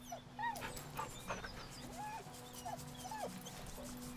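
A dog in Baldur's Gate 3 gives a series of soft, quiet whimpering whines, spread out at irregular intervals over a low steady hum.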